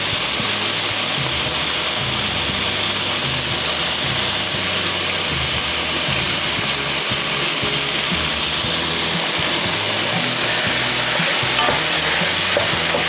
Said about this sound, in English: Okay, and then I'm going to add some ginger.